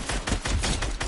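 Rapid gunfire in a video game match, a burst of sharp repeated shots at an irregular rhythm, loud and close, with no talking over it.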